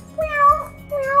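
During Playmobil toy play, two high, drawn-out cat-like meows sound up close, with a short gap between them.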